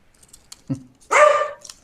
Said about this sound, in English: As you can probably hear in the background, I have a dog.